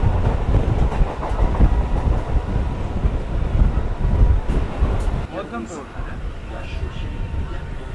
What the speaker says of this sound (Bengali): এই আমাদের ট্রেনটা এই মধ্যমপুর স্টেশন ঢুকছে